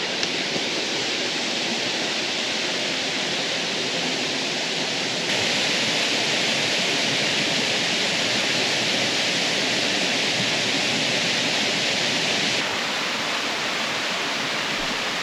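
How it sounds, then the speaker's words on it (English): A waterfall rushes in the distance as a steady, unbroken broadband roar that holds an even level throughout, with no voices. "now you can start to hear the sound of the waterfall"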